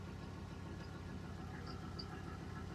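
A car engine idles with its catalytic converter removed and exhaust running through the silencer, giving a quiet, steady low rumble with no voices over it.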